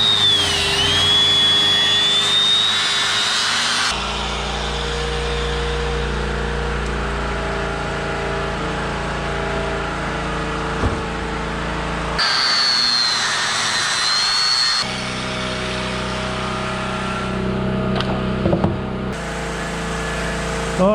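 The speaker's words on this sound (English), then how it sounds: "drill 4 holes in there to clamp it" A power drill bores holes through a custom suspension clamp tool made for a Smart Fortwo, its motor whining steadily and close up in several long bursts with short pauses between them.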